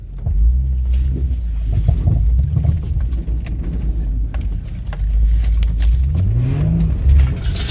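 Infiniti G35 coupe on all-terrain tires backing up a steep hill, its engine a steady low drone with a rising rev toward the end, close and loud throughout without talk.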